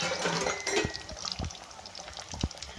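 Fish pieces fry in a pan with a steady, close sizzle, broken by scattered crackles and pops and a few light clinks of a utensil.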